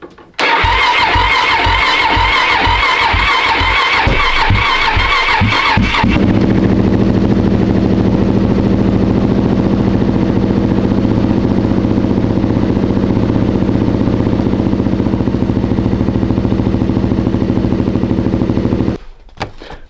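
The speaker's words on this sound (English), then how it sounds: "Now let's get a quick cold start." Kawasaki Z400 quad given a cold start: about six seconds of rhythmic starter cranking, then the engine catches and settles into a loud, steady idle before shutting off.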